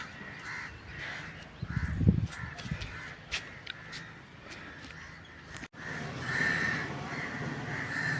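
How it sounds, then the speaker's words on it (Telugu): Several crows caw repeatedly around a village beside green fields, sharp calls scattered through the clip, some close and loud, others farther off, with a steady background hum. "కాకులు పొడిసేస్తున్నాయి చూసారా చుట్టూతా అండి"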